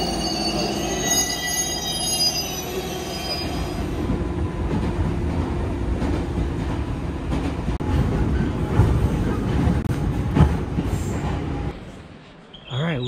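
A commuter train on the Senseki line in Miyagi, Japan, rolls along the rails with a steady low rumble, rising wheel squeal and rhythmic clatter, heard from inside the car with no talking.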